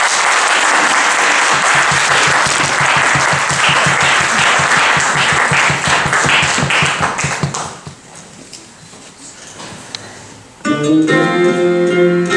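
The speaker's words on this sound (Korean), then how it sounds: "나오실 때 큰 박수 한번 부탁드립니다." A church audience at a praise concert applauds loudly for several seconds, the dense clapping thinning out. Then a piano begins a hymn with sustained chords.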